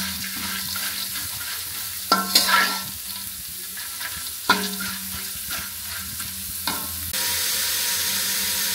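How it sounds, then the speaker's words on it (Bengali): Pumpkin seeds frying in a pan, a steady close sizzle with a few loud stirring scrapes and knocks against the pan, and a rushing hiss that swells toward the end; no speech. "এই যে বন্ধুরা ভাজি করতেছি কুমড়ো বিচির ভাজি।"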